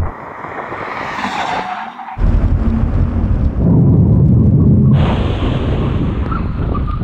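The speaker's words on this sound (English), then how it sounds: "When we reach the line, full emergency stop." Cars brake hard in a full emergency stop from 100 mph, tires skidding loudly on the tarmac with a harsh, sustained roar and screech that shifts as they slow, close and intense, with no talking.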